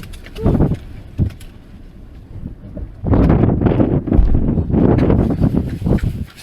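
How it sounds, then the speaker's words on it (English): Strong wind buffets an exposed mountain summit by a trig point in the Brecon Beacons, roaring close on the microphone in gusts: a few short blasts early, then a sustained loud rush from midway on, with no talk. "didn't realise it was quite so windy"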